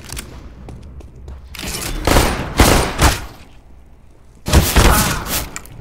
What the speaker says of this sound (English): Just spray and pray everything with the P90.